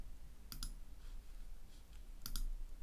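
Two pairs of sharp mouse clicks on a computer, close and fairly quiet, one double click early and another near the end, separated by low room noise and faint rustles.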